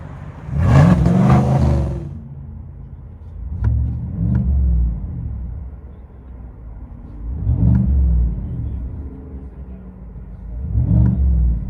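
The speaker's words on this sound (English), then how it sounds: "Chevy Silverado BORLA ATAK muffler swap" Cabin of a 2022 Chevy Silverado LT with a 5.3L V8 and Borla ATAK exhaust, heard as four loud revving rumbles rising and falling in a steady rhythm, with an idle hum between them.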